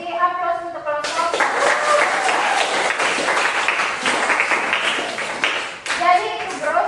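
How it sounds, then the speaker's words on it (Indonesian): A classroom audience claps for a student group, dense steady applause lasting several seconds, loud and close, with a teacher's voice heard before and after it. "beri aplaus untuk kelompok"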